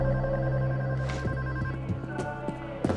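A telephone ringing during a stealth bank heist in the video game Payday 2, a steady electronic ring that holds for the whole moment with faint clicks and thuds in the background.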